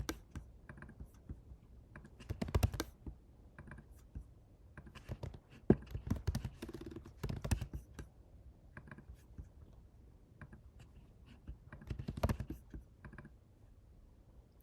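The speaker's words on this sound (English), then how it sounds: "I'm just going to type in the word bone and they should all come up" Quiet clicking of a computer keyboard, short irregular bursts of keystrokes separated by pauses, close and faint with no talk.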